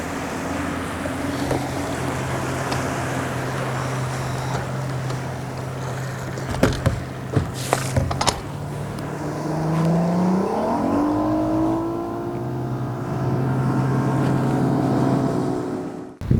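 A fishing boat's outboard engine drones steadily while running up a river, then the pitch sweeps upward as the boat accelerates, with wind and water noise and a few brief knocks.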